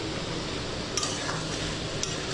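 Fried egg, soybean and fried potato stirred together in a pan: soft scraping and light sizzling throughout, with a couple of sharp utensil clicks against the pan, close and fairly quiet.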